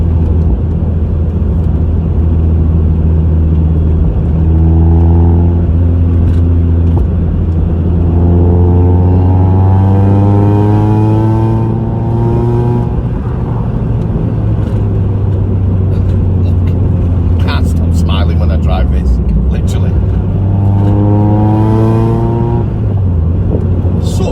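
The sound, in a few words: Mazda MX-5 car engine accelerating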